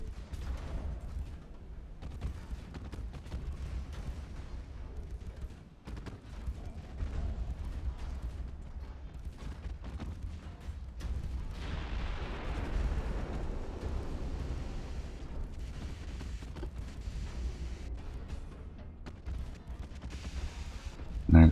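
Naval gunfire in the game Ultimate Admiral: Dreadnoughts, a continuous low rumbling barrage of distant booms and rolling explosions that stays dense and steady throughout, with no clear single shots standing apart.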